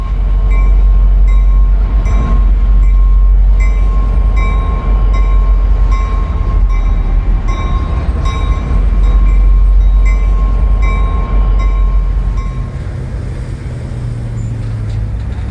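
Locomotives rumble past on the railroad through Atlanta with a loud, close, continuous roar of engines and rolling wagons, a steady horn-like tone riding on top before the noise eases off near the end.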